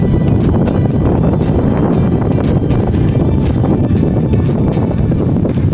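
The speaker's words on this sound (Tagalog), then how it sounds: "Lakas ang hangin." Steady, loud wind at sea buffeting the microphone outdoors, a continuous low roar with gusty rumbling throughout and no clear voices.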